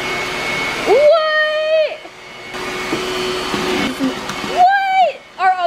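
A $12 secondhand upright vacuum cleaner runs in a home, its motor whine rising and falling in pitch as it is pushed across the floor, loud and close, with a person speaking briefly over it.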